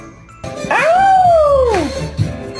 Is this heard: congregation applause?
no